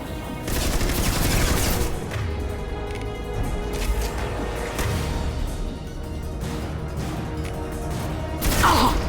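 Sustained gunfire during a boss fight against the Shadow Broker in the video game Mass Effect 2, a dense continuous barrage with crashes and impacts throughout, louder bursts near the start and end.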